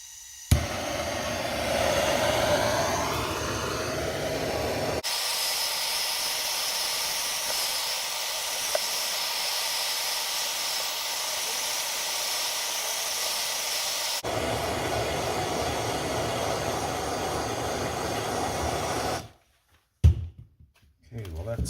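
A torch flame heating a John Deere magneto roars with a steady, breathy hiss that shifts in tone a few times as it runs, then cuts off near the end.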